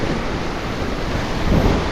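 Ocean waves wash and surge steadily off Palawan, heard close and loud with wind buffeting the microphone, a brief swell building near the end.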